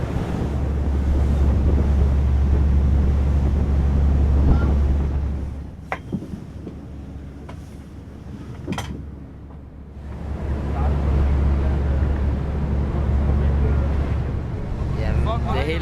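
Strong wind roars and buffets the microphone on the deck of a sailing school ship heeling in rough seas, a loud steady rush that dips briefly midway, with water noise beneath it.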